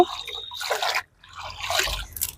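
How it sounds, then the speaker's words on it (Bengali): Radish greens are rinsed under running water in a rooftop garden setting, with a close, steady splashing and dripping wash broken by a brief pause before the flow resumes. "শাকটাও একটু ধুয়ে নেব"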